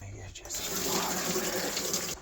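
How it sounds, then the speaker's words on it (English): Tap water runs steadily into a dog's water bowl for about two seconds, a close, even hiss of flowing water from a faucet with no break. "let me get you some water"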